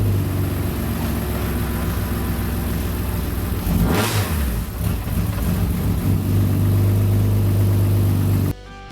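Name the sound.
1999 BMW M3 race car engine starting and revving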